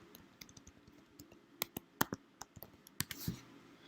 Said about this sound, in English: So I'm going to go to Google, and I'm just going to type in Halloween.